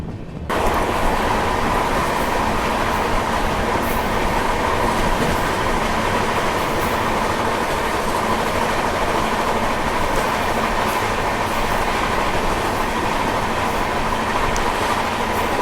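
Gondwana Express passenger train rolling along the rails, heard from inside as a loud, steady rumble with continuous wheel clatter and no talking.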